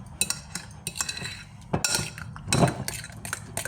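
A spoon scrapes and clinks against a bowl while stirring a mustard batter mixture for pork chops, in irregular bursts, close by with no talking.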